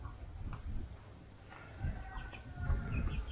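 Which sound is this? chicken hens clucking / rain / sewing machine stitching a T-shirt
chicken hens clucking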